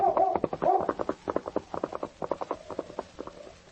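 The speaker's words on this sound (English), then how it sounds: "While Sergeant Preston, riding his horse Rex and accompanied by his great dog Yukon King," Horse hooves clip-clop in a steady, brisk rhythm as a vintage radio sound effect for a Mountie's horse, the clopping close and clear for several seconds with no voices over it.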